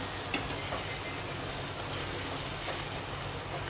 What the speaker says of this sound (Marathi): थोडा गॅस बारीक करते आणि मग काजूची पेस्ट घालून घेते हे बघा